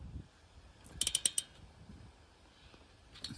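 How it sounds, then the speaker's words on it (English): A small bendy ratchet spanner tightens a temperature sender unit on a Jaguar XJS engine, giving a quick run of about five faint metallic clicks, then one more click later amid quiet. "I'm just using this little bendy ratchet spanner just to get it tightened up."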